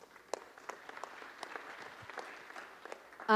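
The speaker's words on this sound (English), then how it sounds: "Round of applause" Scattered applause from the audience at a UN high-level panel on financing sustainable development: sparse, distinct claps in a quiet hall, ending with a voice starting to speak.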